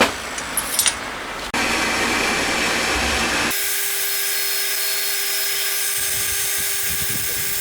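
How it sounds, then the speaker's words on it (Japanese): A center drill boring a series of holes in a workpiece while machining the crankshaft for a homemade 125cc four-cylinder, 16-valve engine: a steady machine whine and grinding that runs continuously, loud and close, after a brief clatter at the start, with no talk. "この先はまたセンタードリルで今度は13個穴開けてきます。"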